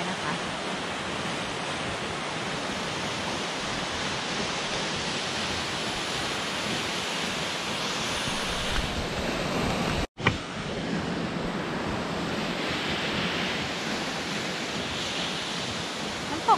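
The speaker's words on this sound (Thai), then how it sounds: "อันนี้ก็เป็นน้ำตกของที่นี่นะคะที่ใช้เป็นโลเคชันในการถ่ายทำหลอดดาวดารินนะคะ" Steady, dense roar of Waitonga or Mangawhero Falls in New Zealand, a continuous broadband rush of falling water heard close, with a brief dropout partway through and no voices over it.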